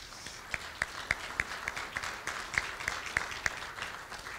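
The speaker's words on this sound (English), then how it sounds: "Let's have a round of applause for the folks at the Fitton Center for the Creative Arts." Sparse, faint applause from an audience at a school athletic hall of fame dinner held at an arts center, a few scattered claps in a quiet room over steady background murmur.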